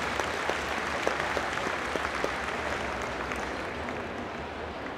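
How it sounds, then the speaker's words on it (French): Sustained applause from a crowd honouring breeders and exhibitors at the Royal Winter Fair Red & White Holstein show, dense even clapping at moderate distance throughout, with no talk over it. "une bonne main d'applaudissements aux éleveurs, aux exposants"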